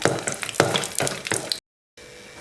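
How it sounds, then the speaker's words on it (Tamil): Cinnamon, cloves, cardamom and cashews frying in hot oil for mushroom pulao, giving a loud, close crackling sizzle with rhythmic spitting bursts that cuts off abruptly into near silence. "இப்போ பட்டை கிராம்பு எல்லாம் நல்லா பொரிஞ்சிருச்சு"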